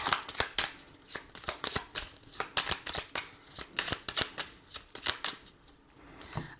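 Oracle cards shuffled by hand for a tarot reading, a steady run of crisp riffling flicks and soft slaps repeating close up with no talking.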